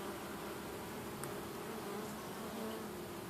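A honeybee colony hums steadily during a springtime hive inspection, a soft continuous buzzing drone of many bees close by, with a brief faint tick partway through and no talking.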